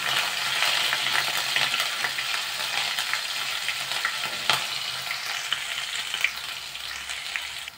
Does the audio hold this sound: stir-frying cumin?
yes